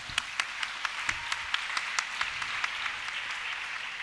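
Audience applause at a Quran school graduation ceremony in Klaten, Indonesia: scattered, moderately distant clapping in a hall with a few sharper individual claps standing out, steady over several seconds.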